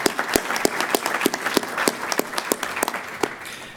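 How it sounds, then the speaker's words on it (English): The audience at a medical device forum's patient engagement panel gives a round of applause, heard as a brisk, fairly close patter of clapping with distinct individual claps that thins out toward the end. "So I want to give them a round of applause."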